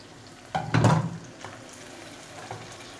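Raw beef and tomatoes hit hot oil with frying ginger, garlic and onions for beef biryani, giving a sudden loud sizzle burst that fades into a softer, steady crackle with a few light stirring sounds.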